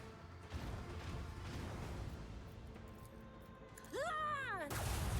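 Macro cannons of a starship fire in the Rogue Trader video game, a steady rumbling barrage of heavy blasts that swells louder near the end, with a sweeping tonal whine over it.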